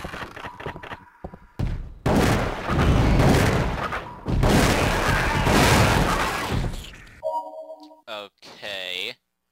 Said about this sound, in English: Now let's test the final shotgun out on a hunter.